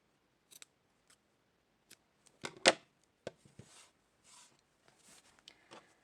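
Scissors snip excess yarn from a crochet amigurumi flower piece in a few sharp, close clicks among faint handling rustles, with no voices.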